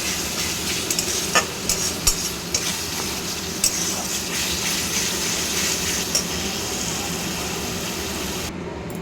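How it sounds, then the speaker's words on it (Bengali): Green jackfruit pieces sauté with spice paste in a pan, giving a steady moderate sizzle and frying hiss with repeated scraping clicks of a spoon stirring against the pan, no talking. "বেশ কিছুক্ষণ মশলার সাথে এঁচোড়টাকে কষিয়ে নেবো 2-4 মিনিটের মতো"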